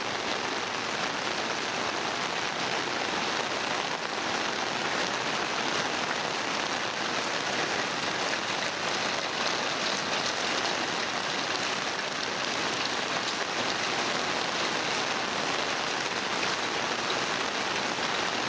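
Heavy monsoon rain falling in Pak Pun, Nakhon Si Thammarat, Thailand, a dense, steady hiss of drops on surfaces that runs unbroken and loud throughout, with no voices.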